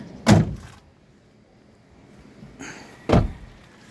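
Freshly washed car's door shutting, two solid thunks a few seconds apart, close and clear against a quiet background.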